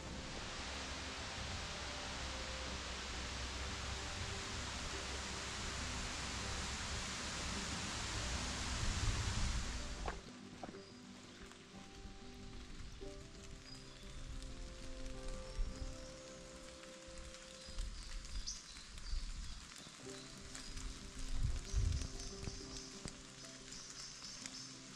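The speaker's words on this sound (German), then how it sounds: "Es regnet ordentlich" Steady rain falls in woodland on a hike around Lohmar, Germany: a loud, dense hiss fills the first ten seconds, then eases to a softer patter with scattered drips close by.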